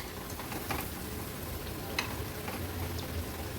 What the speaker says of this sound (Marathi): मीडियम टू हाय फ्लेमवर ही भजी व्यवस्थित आपल्याला तळून घ्यायची आहे